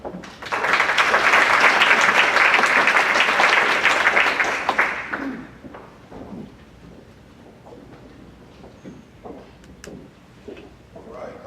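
An audience claps loudly and steadily to welcome speaker Ali Smith, then the applause fades into scattered, fainter claps and room noise.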